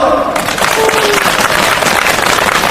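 Dense, steady applause from a crowd at a labor union rally protesting Lone Star's exit from Korea Exchange Bank, loud and continuous throughout, with a faint voice briefly at the start.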